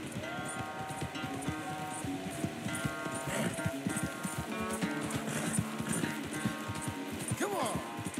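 Horse hooves clip-clop in steady rhythm in the Red Dead Redemption 2 video game, with game music and a voice talking over the hoofbeats.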